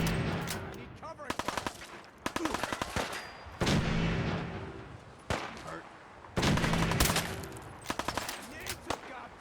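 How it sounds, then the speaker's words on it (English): Gunfire in Fallout 4, several sharp bursts of rapid automatic shots in irregular clusters with loud single blasts between them, close and harsh, while a voice talks quietly underneath. "Why do I keep shooting the wall here?"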